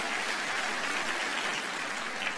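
A church congregation claps together in a dense, even patter of applause that sounds fairly soft and somewhat distant and continues without a break.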